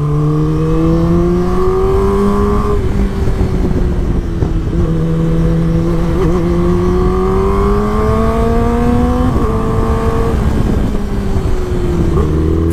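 A superbike engine, slow to start after sitting unused for days, catches and then revs repeatedly, its pitch climbing and falling in loud, close rises over a steady rumbling idle.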